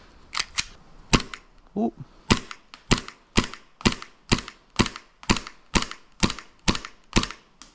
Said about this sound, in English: let's just do a quick one at 75 feet. Let's see what this guy's got.